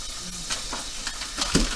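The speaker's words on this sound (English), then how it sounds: "That's sizzling. Wow. Frozen sizzling." Steady sizzling hiss of frozen food frying in hot oil in a pan, with faint crackles and pops scattered through the constant spitting noise.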